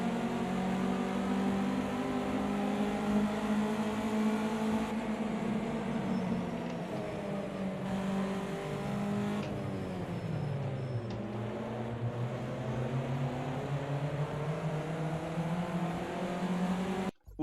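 A race car's engine drones steadily in a wet-weather racing game, its pitch rising and falling through gear changes and turns, fairly quiet and continuous with no talk, cutting off abruptly at the end.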